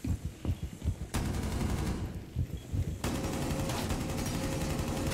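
Light machine gun fire in a video game rattles in rapid bursts, then in longer sustained volleys, loud and close with no talk over it.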